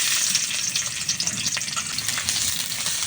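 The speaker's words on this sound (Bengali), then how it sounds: "এবার পেঁয়াজ আর রসুনটা আমি লাল লাল করে ভেজে নিব" Onion and garlic fry in hot oil in a wok for a chickpea-leaf stir-fry, giving a close, steady crackling sizzle with light stirring scrapes and no voices.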